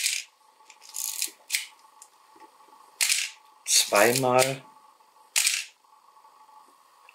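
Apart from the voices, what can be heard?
Cosina CS-1 analog film camera shutter release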